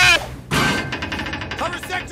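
Gunfire sounds in the South Park: The Stick of Truth video game, a loud burst at the start followed by a heavy blast and rapid impacts, with a voice talking over it.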